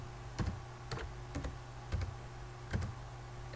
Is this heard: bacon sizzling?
no